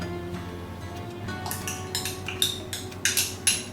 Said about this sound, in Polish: Teraz mieszam bardzo dobrze, aż ona całkowicie idealnie dobrze się rozpuści